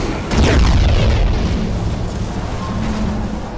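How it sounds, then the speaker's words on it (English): Spore cannon blasts strike a ship in Battlefleet Gothic Armada 2, a loud booming impact followed by a sustained rumbling roar that lingers for several seconds. "Getting hit by a spore cannon."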